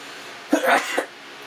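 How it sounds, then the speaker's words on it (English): A single sharp sneeze, close and fairly loud, with a quick intake followed by the burst, then quiet room tone. "Sorry for sneezing."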